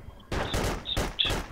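Gunfire in the Project Reality video game: several sharp, close shots fired in quick succession over a second and a half, with no talk.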